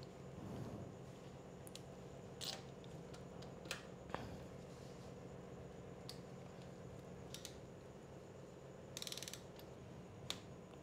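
A torque wrench set to 13 tightens a spark plug on a Yamaha R15 motorcycle, giving sparse, faint mechanical clicks and ratchet ticks over a low steady background hum, with no talking.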